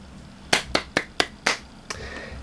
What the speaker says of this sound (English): It's definitely getting an excellent 5 out of 5 clap rating.